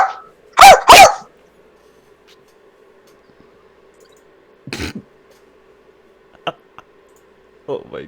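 A person imitates a dog, giving two sharp bark-like yelps near the start and a few shorter grunting barks later, with quiet between.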